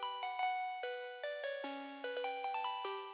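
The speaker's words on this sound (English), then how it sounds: "Just a little pluck that comes in the second part of the song" A quiet synth pluck plays an odd, aggressive melody of short, bright, decaying notes in a steady rhythm, alone with no voices, as part of a rap vocal beat.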